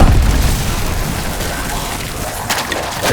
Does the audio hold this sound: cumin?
no